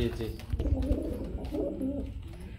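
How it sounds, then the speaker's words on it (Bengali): Domestic pigeons of a bred show line coo softly and steadily at close range, low throaty murmurs running through the whole moment, mixed with a voice talking. "সমস্ত রব্বানির লাইনের কবুতর।"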